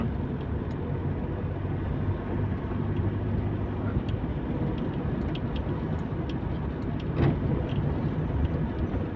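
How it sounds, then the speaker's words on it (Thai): Steady, moderately faint traffic rumble on a Bangkok street, with cars and motorcycles passing in a continuous wash and no talking. "อันนี้ก็ถ่ายสภาพถนน สภาพบรรยากาศในกรุงเทพมาให้เพื่อนๆดู"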